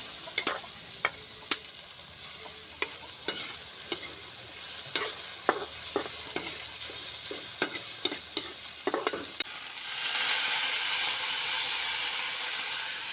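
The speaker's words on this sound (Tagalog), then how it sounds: "Lagyan na natin yung atay ng baka." Beef liver hits a hot frying pan with tomatoes and garlic, a metal utensil scraping and tapping in irregular strokes before a loud steady sizzle swells up and holds.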